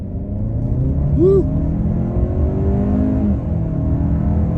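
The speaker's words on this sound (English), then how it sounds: "Try it out one time in sport mode. Okay, sport, on the gas." 2023 Hyundai Santa Fe Calligraphy with the 2.5-liter turbo, in sport mode, pulling hard with a steady engine and road rumble that stays up throughout; a voice gives a short excited whoop partway through.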